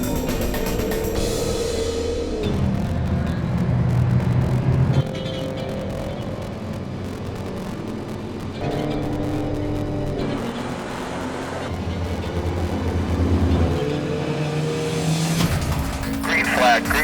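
A pack of race cars roars off at the start of a 7-hour endurance race, loud engines revving and passing close in waves with occasional tire squeal, while voices talk over the din.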